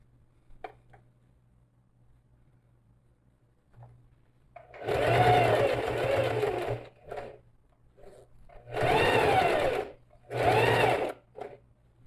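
A sewing machine stitching fabric for a drawstring toiletry bag, running in three close, loud bursts of whirring, mechanical stitching separated by short pauses in a quiet room.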